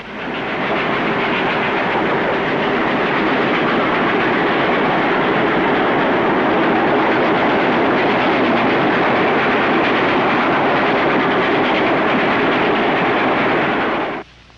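A train rumbles steadily along the rails, loud and close, a continuous roar with faint clatter that holds for the whole stretch before cutting off.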